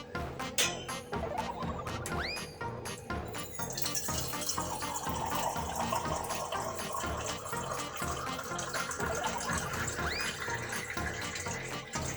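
Water poured from a container into oats flour for roti dough, a continuous trickle and splash with clinks of a bowl or vessel at the start, close and fairly quiet.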